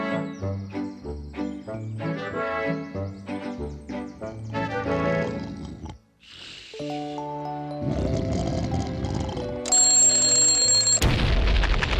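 In a classic Dennis the Menace cartoon, an explosive alarm clock rings shrilly after a bouncy stretch of music and ends in a loud burst.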